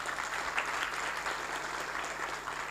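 A theatre audience applauds after a stage play, dense continuous clapping that stays loud and even for a few seconds.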